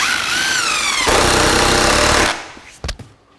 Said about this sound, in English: And now it's time to glue and screw our post.